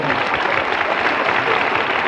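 A studio audience at a 1968 American television comedy hour bursts into steady, dense applause that fills the whole short moment without a break.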